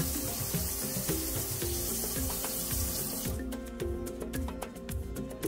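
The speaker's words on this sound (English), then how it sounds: "carry some water over just to moisten the paper towel" Water runs from a tap at a sink for several seconds, then gives way to a few faint splashes and drips as a wet hand carries water over to dampen a paper towel.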